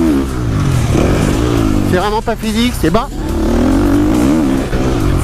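A 2016 Kawasaki 450 KXF or 2016 Husqvarna 350 motocross bike revs and roars loudly nearby, pitch rising and falling through shifts, while someone talks over it throughout.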